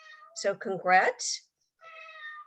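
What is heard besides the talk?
cat meowing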